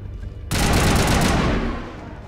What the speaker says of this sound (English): Shoot him in the leg